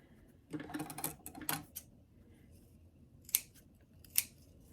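Scissors trimming the frayable fabric of a doll dress sleeve: a cluster of quick crisp snips, then a pause, then two isolated sharp closing clicks, all close and fairly quiet, with no talking.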